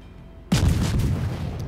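A warship's naval guns fire in World of Warships, one sudden heavy boom out of near quiet, followed by a long rumbling roll that fades slowly.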